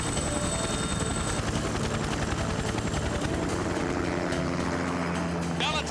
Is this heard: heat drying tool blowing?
no